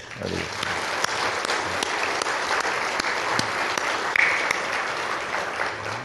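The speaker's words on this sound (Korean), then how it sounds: "우리 박수 한번 칩시다." A church congregation at an Easter service applauds to welcome back a deacon, a dense, even wash of clapping sustained throughout, fairly distant and soft, with no voices over it.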